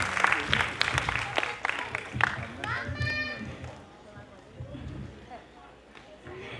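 Audience clapping for Poonam bhabhi at a dance academy's annual function show. Scattered, brisk claps crowd the first few seconds and then thin out, mixed with a talking voice and hall noise.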